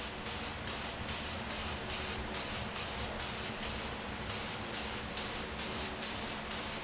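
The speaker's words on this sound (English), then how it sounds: "we're going to spray a good coat." A can of Uni filter oil spraying a steady coat onto an air filter for a CF Moto Zforce, a continuous close hiss that pulses in short regular bursts as the nozzle is worked across the element.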